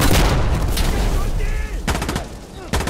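In the shooter Insurgency: Sandstorm, gunfire crackles and a heavy blast booms in a loud, dense combat mix. Several sharp reports punctuate the din.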